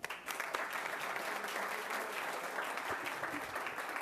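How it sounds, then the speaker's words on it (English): An audience at a school board meeting breaks into applause, a dense, steady wash of clapping from many hands that holds for about four seconds at moderate loudness. "Let's give him a round of applause."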